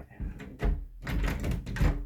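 A room door with no lock is swung open and shut close by, giving a few hollow thumps and knocking rattles spread across a couple of seconds.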